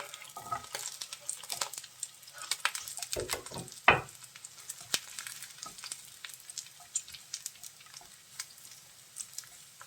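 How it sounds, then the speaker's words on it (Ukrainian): Onions and mushrooms sizzle and fry in a pan, with steady crackling and spattering under irregular stirring clatters and a louder scrape near the middle. "Так, Цибулька підсмажилася, кидаємо грибочки."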